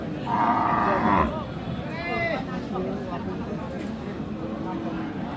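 A crossbred dairy cow at the Aftabganj cattle market in Dinajpur gives one loud, drawn-out moo lasting about a second, followed by a steady murmur of voices and market chatter.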